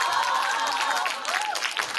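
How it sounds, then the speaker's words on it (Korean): Lively applause from a group at a team presentation session, dense clapping mixed with excited crowd voices, close and fairly loud for a couple of seconds. "이쪽 박수 쳐야 된다."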